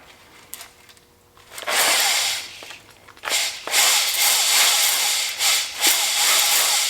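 An engine cylinder is honed with a power-driven hone lubricated with WD-40 as cutting fluid, giving bursts of loud abrasive hissing, grinding and whirring that start and stop, close up.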